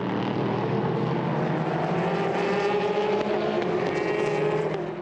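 Race cars, including LMP2 prototypes, Ferraris and Porsches, at the 4 Hours of Aragón ELMS endurance race, their engines making a continuous loud, blended roar as the field passes.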